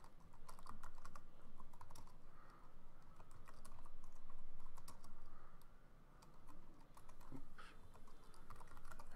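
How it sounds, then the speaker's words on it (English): Words are typed on a computer keyboard in a quiet room, a soft, continuous patter of key clicks with brief pauses, close and faint without any talk. "So let me just type in some words here."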